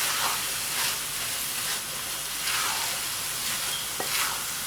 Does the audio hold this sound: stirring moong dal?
yes